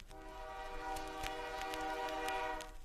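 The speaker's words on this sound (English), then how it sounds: "A train whistle sounded, distant, fading." A train whistle sounds from a distance, a sustained tonal horn over a low rolling rumble of rail traffic, with a few faint clanks along the way.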